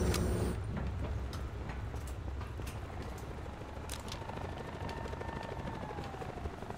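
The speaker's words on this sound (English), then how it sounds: "Somebody's coming with a chopper." A video game helicopter approaches with a steady, thudding rotor drone and rising engine whine, continuous and fairly loud throughout, under rapid clicking sounds.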